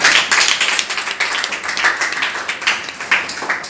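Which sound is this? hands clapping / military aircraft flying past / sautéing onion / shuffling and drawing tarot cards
hands clapping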